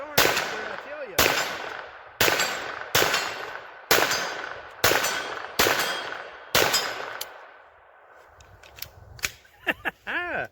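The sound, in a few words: Kel-Tec Sub2K 9mm carbine gunshots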